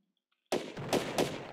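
Gunfire from a warship's secondary turrets in the video game Destroy the Island: a loud burst starts abruptly after brief silence, followed by two more heavy shots at a steady pace, close and alone.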